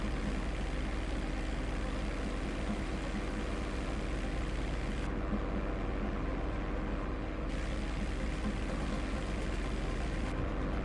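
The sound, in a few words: airplane engine in GTA 5 Online video game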